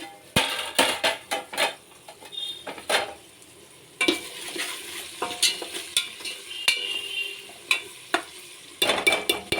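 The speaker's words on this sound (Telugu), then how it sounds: "ఆనియన్స్ కూడా ఫ్రై అయ్యాయని చూద్దాం." Onions fry in a pan, stirred with a utensil that scrapes and clacks against the metal in repeated sharp strokes over a soft background sizzle, close by with no speech.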